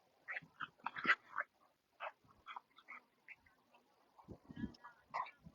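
Faint dog barking at a distance, several short irregular yaps scattered through the stretch, with no clear talk over them.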